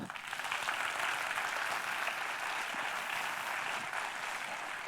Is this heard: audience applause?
yes